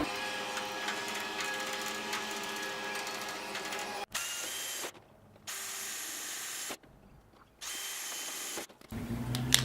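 A power drill whines in several bursts separated by short pauses, close by, with a grinding, mechanical edge as it widens holes to 6.5 mm.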